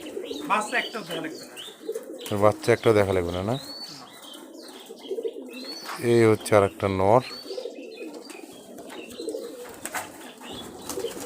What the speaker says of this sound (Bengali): এক জোড়া কবুতর দেখানো হচ্ছে